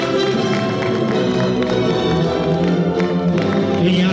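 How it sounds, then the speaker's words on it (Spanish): Wedding guests applaud in San Sebastián as the bride enters, a steady wash of clapping that carries on for several seconds over music playing underneath. "Vamos a recibirlo con un fuerte voto de aplausos"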